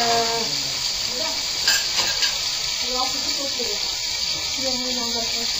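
Zucchini fry in butter and olive oil in a pan for stuffed squash, a steady close sizzle running throughout while a person talks over it.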